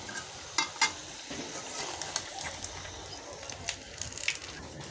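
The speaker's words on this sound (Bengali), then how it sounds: "এটা কিন্তু মিডিয়াম আঁচে ভাজতে হবে" Spicy nimki frying in oil on medium heat, a steady close sizzle with a few stirring knocks and scrapes, moderately quiet and without talking.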